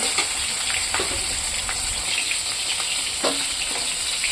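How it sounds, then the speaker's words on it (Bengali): Turmeric- and salt-coated rohu fish pieces fry in oil in a wok, giving a steady close hiss and crackle with a few soft stirring clunks throughout. "মাছটা এরকম করে আমি ভাজবো, বেশি লাল করবো না"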